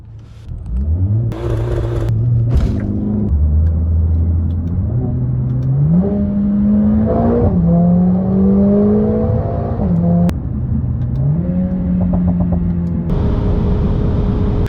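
A new Mercedes A45 AMG accelerates hard onto the unrestricted German Autobahn, its engine revving loudly and climbing through repeated gear changes with brief pops between shifts, heard close from inside the car without talk.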